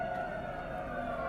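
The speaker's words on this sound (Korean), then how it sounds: "소방차 50세대가 대구 신라병원 앞 도로를 가득 메웠습니다." Fire engine sirens wail outside the Silla hospital fire in Daegu, where about fifty engines fill the road. The steady tone holds at moderate volume, with no voices.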